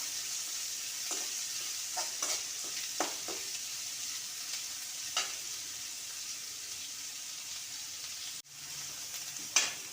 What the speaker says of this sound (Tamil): பச்சை மிளகா இஞ்சி கருவேப்பிலை கொத்தமல்லி எல்லாத்தையும் போட்டு வதக்கிடுவோம்